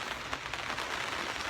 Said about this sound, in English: it's another day of rain